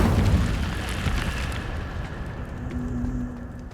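Incendio fire spell cast in Hogwarts Legacy, a loud whooshing burst of flame that roars at the start and then settles into a lower, rumbling crackle.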